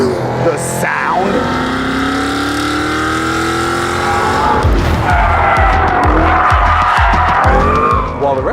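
A Cadillac CT5-V Blackwing's engine roars and revs hard while its tires squeal in long, loud skids, with rising and falling engine pitch throughout.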